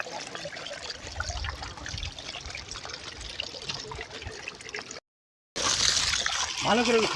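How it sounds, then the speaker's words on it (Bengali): Water streams steadily from a pipe fed by a shallow pump in a village setting, used for bathing outdoors, with a constant splashing trickle that briefly drops out and returns louder. "লাস্টে পাইপে স্নান করতে হচ্ছে"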